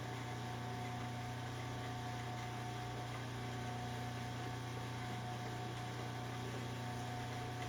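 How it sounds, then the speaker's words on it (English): Rock tumblers polishing agate run as a steady, low mechanical hum with a faint rhythmic rumble, continuous and unchanging in the background. "I've got my tumblers going in the background"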